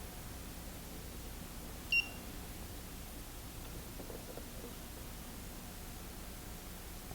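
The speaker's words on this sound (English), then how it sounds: "Note it gives an audible beep when power is applied." Estate Swing E-S1000H/E-S1000D gate opener control board gives a single short electronic beep as its battery is connected, brief and clear over a quiet noisy background.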